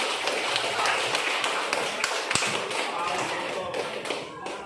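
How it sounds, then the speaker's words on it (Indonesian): A class applauds a student during a practice-teaching lesson, with dense, steady clapping that stays fairly loud for the whole stretch, with a few sharper taps and faint voices mixed in. "beri tepuk tangan untuk Repan"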